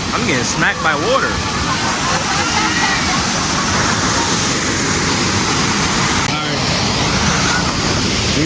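A waterfall pounds and sprays at very close range, a loud continuous roar of splashing water with voices briefly audible over it.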